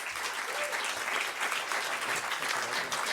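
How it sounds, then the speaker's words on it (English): Audience applause fills the room at an evening talk on integrated education, a steady dense clatter of many hands clapping throughout, close and sustained without pause. "give him a huge round of applause"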